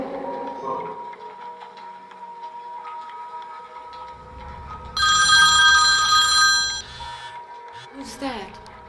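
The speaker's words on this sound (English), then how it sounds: "Phone." A telephone bell rings in a loud, sustained metallic burst midway, preceded by background tones and murmuring voices, with speech around it.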